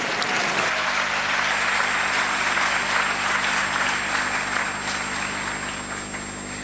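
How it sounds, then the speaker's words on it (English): A school audience applauds at a cultural event, with sustained, dense clapping from a large crowd that starts abruptly and carries on steadily before easing slightly toward the end. "Audience, please join your hands and give a big round of applause and welcome our participants."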